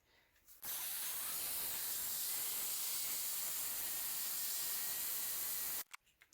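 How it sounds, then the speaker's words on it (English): A craft heat tool blows a loud, steady hiss of hot air for about five seconds over embossing powder on a silicone craft sheet, switching on and off abruptly. "So I use my heat tool to heat set this."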